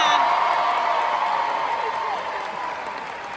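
Audience applause and cheering at a Halloween event, a dense steady roar of clapping with whoops near the start, fading slightly over the few seconds.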